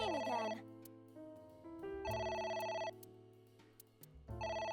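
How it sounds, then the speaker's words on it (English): A telephone rings in the AI: The Somnium Files video game. It rings in bursts, repeated at intervals over steady background game music. "It's ringing again."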